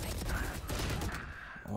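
Rapid gunfire in the tactical shooter Valorant crackles steadily through the whole moment, a dense, continuous burst with no clear gaps, while players shout faintly underneath.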